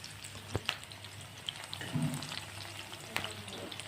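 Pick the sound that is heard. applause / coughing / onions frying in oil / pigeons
onions frying in oil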